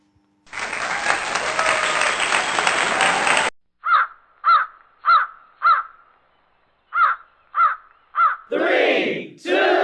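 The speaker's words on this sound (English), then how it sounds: "Crow." A crow caws six times in a steady, evenly spaced series, loud and close, preceded by a long burst of broadband noise and followed by harsher, rougher calls at the end.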